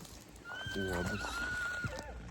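A horse neighs in a long, clear whinny with a wavering pitch, close by, over faint background noise.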